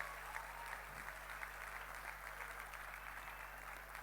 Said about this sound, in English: I'm going to make everybody clap.